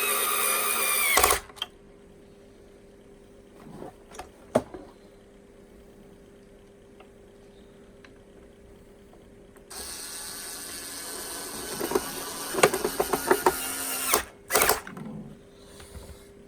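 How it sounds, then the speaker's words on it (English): Screws are driven back into the housing of a Hoover U4058 vacuum cleaner, heard as short mechanical ratcheting and whirring bursts of a screwdriver separated by quiet pauses, close and alone. "I can put these screws back in."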